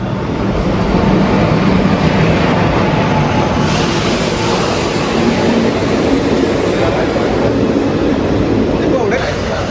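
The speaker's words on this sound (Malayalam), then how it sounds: "പരശുറാം എക്സ്പ്രസ്, ഒരു P4 ലോക്കോ, അരക്കോണത്തിൻ്റെ 225/56 നമ്പർ." Parasuram Express hauled by a WAP-4 locomotive from the Arakkonam shed pulling into a station, a steady loud rumble of wheels and carriages rolling past close by, with wind buffeting throughout and faint voices in the background.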